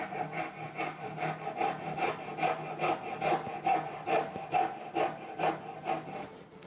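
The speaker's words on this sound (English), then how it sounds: "And this time I will use a dovetail saw." A dovetail saw cutting wood in a workshop, even back-and-forth rasping strokes about two per second, close and clear with no talking.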